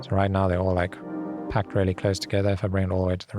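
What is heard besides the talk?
No everyday noises stand out.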